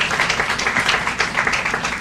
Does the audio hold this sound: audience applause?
yes